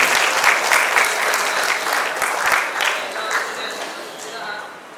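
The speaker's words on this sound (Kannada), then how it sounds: "ನಾವು ಗೌರವದ ಚಪ್ಪಾಳೆಯೊಂದಿಗೆ ಸ್ವಾಗತದ ಕಾರ್ಯದಲ್ಲಿ ಜೊತೆಯಾಗೋಣ" An audience claps in welcome at a birth anniversary function, dense sustained applause filling the hall, strong at first and gradually tapering off.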